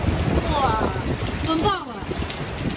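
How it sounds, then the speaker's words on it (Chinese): Storm wind and rain roar and buffet the microphone during a hurricane in New York, loud and continuous, with voices calling out briefly over it. "风暴啊！"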